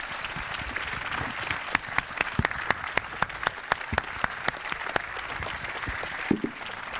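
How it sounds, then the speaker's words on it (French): Audience applause at a Yuri's Night space event fills the space with a dense wash of clapping, sharp individual claps standing out in a steady rhythm, sustained and fairly loud for the whole stretch. "je crois qu'on peut les applaudir"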